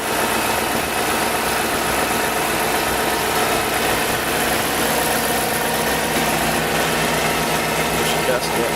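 An Audi A8 with a 3.7 engine and LPG conversion idles in a steady, dense rumble with constant vibration and no change in pace, recorded close and loud.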